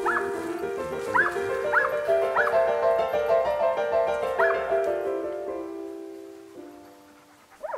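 Hunting dogs bark repeatedly in quick yelps and higher whimpering cries during a montería deer hunt in the Sierra Morena brush, the barking fading and thinning toward the end.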